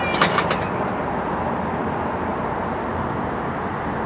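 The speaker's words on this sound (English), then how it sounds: "Yeah, look how low the planes fly." An airplane flies low overhead near a police headquarters, a loud continuous broadband roar that fills the whole stretch steadily, with a brief clatter at the start.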